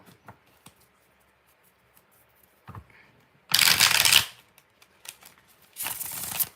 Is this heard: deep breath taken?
no